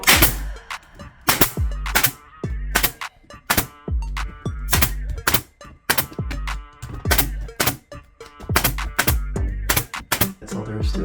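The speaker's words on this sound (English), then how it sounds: "And then we're gonna shoot this with the nailer." Brad nailer firing into soundproof ceiling tile, a fast series of loud, sharp close-up shots in irregular bursts with short gaps between them, no talking.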